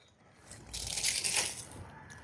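A cucumber is snapped off the plant in a home garden, a brief close crunching rustle of stem and leaves peaking for about a second.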